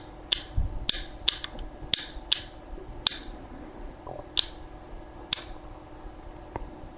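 An airsoft gun fitted with a Perun clicker trigger is dry-fired repeatedly, giving sharp, close mechanical clicks as the trigger passes through take-up, break and reset, at an irregular pace over quiet background.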